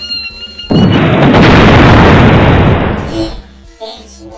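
A single loud bomb explosion in a video game bursts in suddenly and close, a heavy roaring blast that holds for about two seconds before fading into lighter game sounds.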